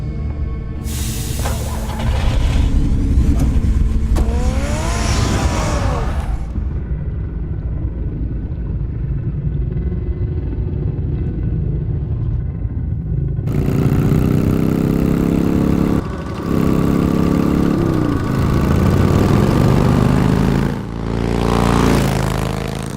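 A car engine in a Batman video game starts and revs: a loud, continuous droning engine with shifting pitch and a few abrupt changes in intensity, heard alone without talk.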